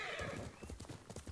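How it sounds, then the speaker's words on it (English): A horse leaps and lands in Ghost of Tsushima, with quick hoof clip-clops and a short whinny, then a string of rhythmic hoofbeats galloping on, moderately close. "Horse jump."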